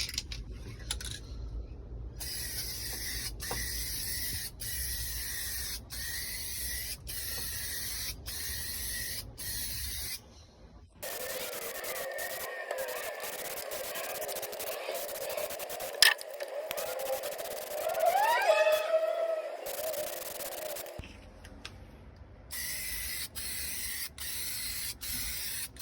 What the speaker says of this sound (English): We're gonna do the second coat of spray paint.